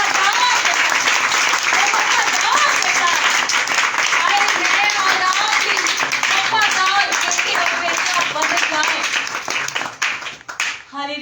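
Loud, sustained applause from a church congregation at a Friday meeting, dense clapping filling the room with voices mixed in, fading toward the end.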